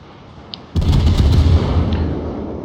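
A warship fires its guns in a naval battle game: one sudden loud booming salvo that sets off a sustained roar and rumble and fades slowly, with no voices.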